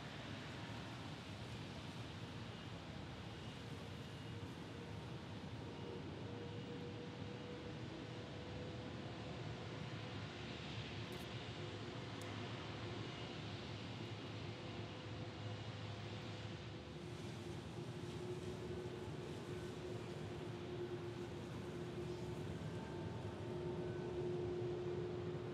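Jet blast from an aircraft at Orlando International Airport, a steady broad roaring rush heard from a distance, fairly faint and continuous, swelling slightly toward the end.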